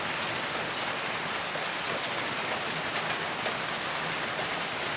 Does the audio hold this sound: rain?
yes